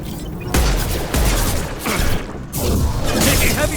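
Heavy gunfire in a Mass Effect 2 combat scene, dense loud bursts of shots and impacts roaring in several waves with brief gaps between them.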